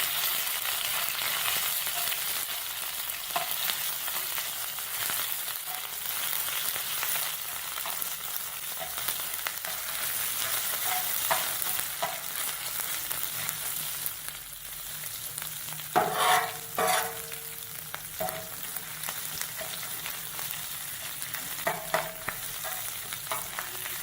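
Ginger garlic paste fries in hot oil on a tawa, giving a continuous close sizzle and crackle, with scraping stirs and a few utensil knocks near the middle and end.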